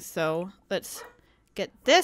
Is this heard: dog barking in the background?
yes